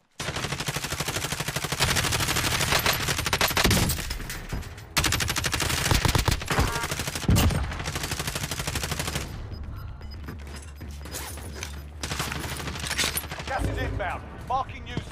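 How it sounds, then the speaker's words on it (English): Rapid bursts of automatic gunfire and single shots fill a match of the video game Warzone, loud and close with brief pauses between volleys, while players talk over the action. "Oh, stop shooting at me."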